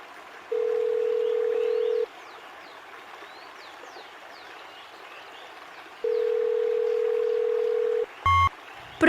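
A phone ringback tone from a call placed on a mobile phone, two long steady beeps separated by a pause over faint background hiss, then a short electronic click and blip as the call connects.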